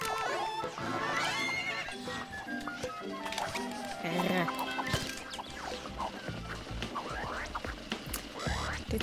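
Horse neighs and whinnies in the LittleBigPlanet video game, mixed into busy game music and effects with voices talking over it.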